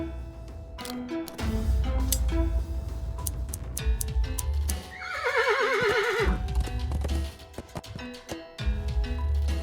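Horse in the video game Willy Morgan and the Curse of Bone Town gives one loud, wavering whinny mid-clip, set among clip-clopping hooves, thuds and ambient game music.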